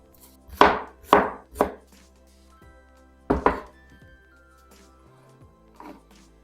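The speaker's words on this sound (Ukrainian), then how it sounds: "І невеличку цибулинку наріжу півкільцями" A knife chops through a small onion on a cutting board, cutting it into half rings: three quick close thuds, then a pause and one more firm chop, with a faint soft tap at the end.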